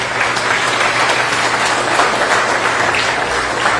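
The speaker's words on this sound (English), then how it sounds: "Yes, the round of applause." A crowd at an Emancipation Day celebration in Moruga gives steady, loud, continuous applause throughout, with no voices standing out over the clapping.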